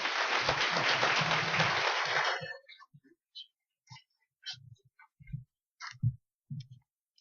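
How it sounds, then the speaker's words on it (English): A public meeting audience about a proposed dump gives a short burst of applause lasting about two seconds, then falls to a few scattered claps and clicks in near silence. "I don't think it's a good idea to clap before you hear what I have to say"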